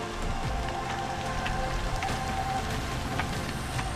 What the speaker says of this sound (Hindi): हल्की हल्की बारिश अभी भी हो रही है